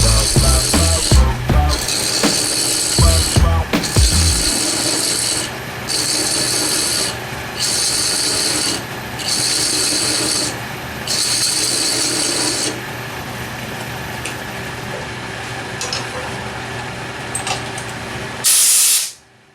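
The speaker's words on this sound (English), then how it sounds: "Then I will initiate the cuts using the first tooth of the chaser. With each pass the thread goes a bit further." A thread chaser cuts threads into epoxy putty spinning on a lathe, giving a steady scraping rasp in repeated passes of a second or two each, separated by short pauses, over a constant motor hum.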